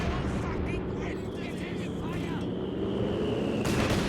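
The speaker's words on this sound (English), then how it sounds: "he's just getting bombed on by these mortar pits" Mortar pits pound units with explosive artillery fire in a Company of Heroes 2 multiplayer battle, a dense continuous rumble of blasts and booms running steadily throughout.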